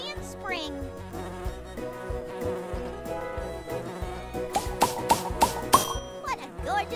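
In the animated show Nature Cat, a bumblebee buzzes in a yard, a thin droning hum laced with bright plinking tones and a few sharp pings.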